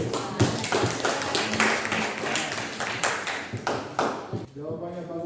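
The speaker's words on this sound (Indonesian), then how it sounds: "Kita beri aplaus kepada" Classroom students clapping for a classmate's good answer, a run of quick, sharp, fairly even claps from a small group nearby, ending as a voice begins speaking.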